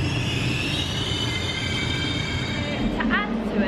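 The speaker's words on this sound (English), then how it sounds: "made us get on the wrong train in the wrong direction" Passenger train rolling along rails near Rome, a constant rumbling clatter with faint wheel squeal near the end, heard from inside the carriage with voices faintly underneath.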